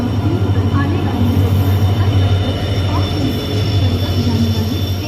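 The 17611 Nanded–Mumbai CSMT Rajyarani Express rolls through Byculla station with a loud, steady low rumble and wheel noise. Station announcements and chatter mix in with the passing train.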